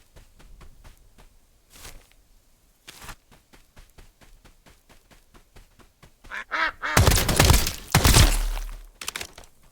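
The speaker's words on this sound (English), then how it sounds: "I'm so happy when I see normal ducks and not the maniacs." Ducks quack in the video game Escape From Duckov, a series of short calls that build into a loud, dense burst of quacking near the end, with quieter clicks and game sounds between them.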